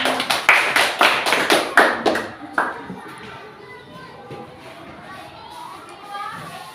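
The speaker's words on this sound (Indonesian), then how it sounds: "Tepuk tangan sekali lagi." A classroom of children claps in a burst of quick, loud, rhythmic hand claps for about two seconds, then the clapping stops and soft background chatter and movement continue.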